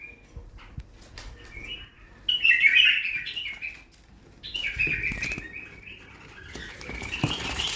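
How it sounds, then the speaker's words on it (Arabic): Iraqi tabzir pigeons flutter and flap their wings in bursts close by, with soft chirps, rustling and patter from the birds in between. "طيور تبزير عراقي"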